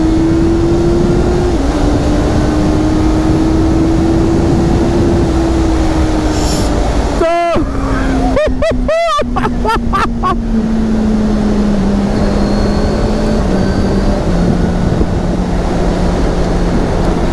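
A 2023 Honda CBR650R sport bike climbs a hill at full throttle, its engine holding a steady droning note under heavy wind roar, broken by a few brief crackling bursts.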